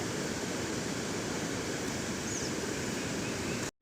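Heavy rain has left a Konkan stream overflowing onto the road, and its floodwater pours across in a constant broad rushing roar until the sound cuts off abruptly at the end.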